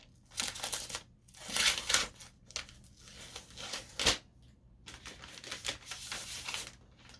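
Crinkly plastic wrap peeled off a new 2019 MacBook Pro 13-inch laptop, close and moderately loud, in repeated bursts of rustling and tearing over about seven seconds with no talking.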